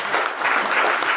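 An audience at an AWPL business-plan presentation gives loud, energetic applause, a thick continuous patter of many clapping hands with no speech on top.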